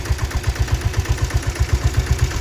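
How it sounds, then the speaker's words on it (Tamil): A restored old Royal Enfield diesel Bullet motorcycle idles nearby, its engine knocking out a steady, even low thump with a rhythmic mechanical clatter on top, loud and alone. "ஸோ அந்த வண்டியோட பீட் சவுண்ட் எல்லாம் கேளுங்க"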